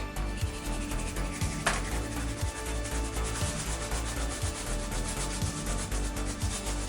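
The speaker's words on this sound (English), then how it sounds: "Ginger, we're gonna grate this, and we're gonna grate the garlic." Fresh ginger grated for satay chicken, a steady rasping rub with regular back-and-forth strokes, close and continuous for the whole stretch, with no talk.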